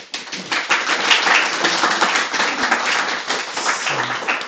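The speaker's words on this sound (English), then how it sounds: "Let's give Daniel a round of applause" A round of applause at a general assembly meeting, steady, dense clapping from a roomful of people lasting about four seconds, fairly close and continuous with no talk.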